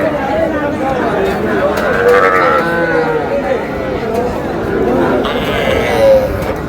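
Cattle calls and bleating rise from a busy, crowded livestock market in Pabna, Bangladesh, with steady chatter and voices of many people mixed throughout.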